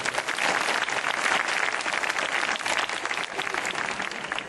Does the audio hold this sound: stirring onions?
no